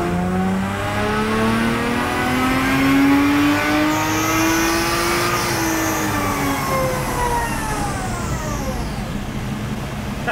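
A Lexus IS200 engine revs hard on a dyno at 75% throttle, its tone climbing steadily in pitch and then falling away, loud and continuous throughout with no talk.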